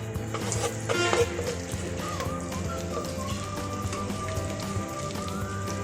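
Chopped onions fry in soybean oil in a pan for a bitter gourd and shrimp dish, giving a steady, dense sizzle like light rain that runs evenly the whole time.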